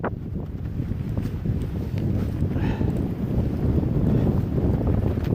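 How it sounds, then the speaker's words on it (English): Strong gusting wind on an Appalachian mountain top roars and buffets the microphone, a low rumbling rush that builds slightly toward the end. "It's so windy up here."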